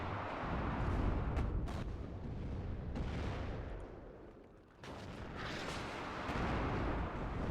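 A T-80B tank cannon firing in the WARNO strategy game, heavy booming shots rumbling over a dense, noisy battlefield mix, with sharp blasts breaking through near the start and middle.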